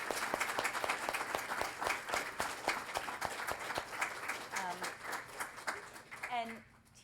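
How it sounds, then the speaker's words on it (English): An audience applauds panelists at a science fiction and fantasy author event, a dense, steady wash of clapping that carries on for several seconds, then fades as a voice briefly speaks near the end. "Can we all give them a round of applause,"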